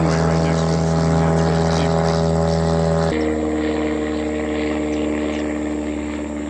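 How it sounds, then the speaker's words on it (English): A small yellow propeller airplane flies low overhead near an airport runway, its steady droning engine hum loud and continuous, dipping slightly in pitch midway as it passes. "We've got a plane interrupting our conversation here."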